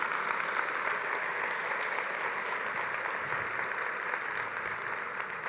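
A church congregation applauds, steady and continuous clapping from a large group, moderately distant, holding evenly throughout.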